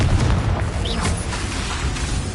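Confringo fire spell blast in Hogwarts Legacy on PS5, a loud booming burst at the start that settles into a dense, rumbling roar of noise.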